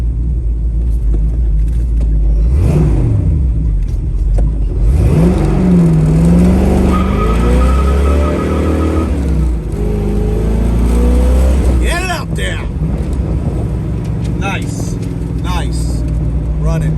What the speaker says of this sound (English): Nice running car, plenty of performance, runs out strong